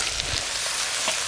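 Bengali five-spice (panch phoron) tempering in hot oil, a close, continuous hiss and sizzle with faint pops, heard alone without speech.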